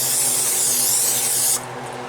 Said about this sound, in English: Grab some non-stick spray.